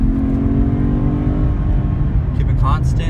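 A 2011 Cadillac CTS engine hums and whirs at speed with steady road rumble from inside the cabin, the car holding around 60 mph, with a brief voice near the end.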